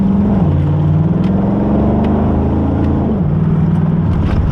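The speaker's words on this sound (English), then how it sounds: "I bought the car 3 years ago, and I still don't get tired of this growl" Chevrolet Camaro Bumblebee engine growling while driving, a loud close steady rumble that dips briefly as revs shift.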